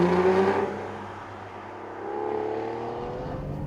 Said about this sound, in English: a really nice, really melodic V12 engine